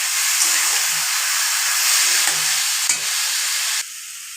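Rice frying in a pan together with potato and cauliflower for a vegetable khichuri makes a loud, steady hiss and sizzle, with a few soft stirring scrapes, before dropping slightly quieter near the end.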